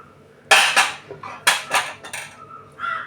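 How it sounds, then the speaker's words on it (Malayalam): Eggs being beaten by hand until frothy for mutta surkka: a close run of quick clinking and tapping strokes against a bowl in uneven bursts, with a brief soft sound near the end and no talk. "കലക്കി കൊടുക്കണം, അടിച്ച് പതപ്പിക്കണം"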